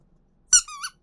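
A small rubber duck toy gives one short, sharp squeak, then a second squeal and a brief final chirp, close and clear in a quiet room.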